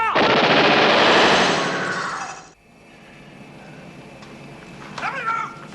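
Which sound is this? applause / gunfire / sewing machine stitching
gunfire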